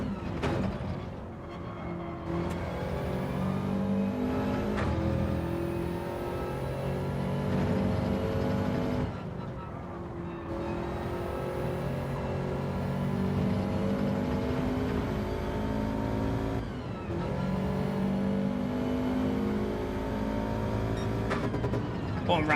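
A four-wheel-drive race car in Gran Turismo 7 repeatedly accelerating, its engine note climbing steadily through each gear with brief drops at the shifts, loud and continuous under a talking voice.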